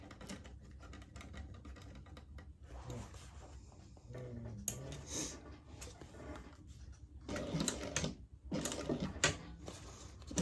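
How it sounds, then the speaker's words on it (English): A sewing machine stitches a seam right beside piping in quiet, uneven bursts of rapid needle clicking, growing busier toward the end. "now we're just going to sew around this"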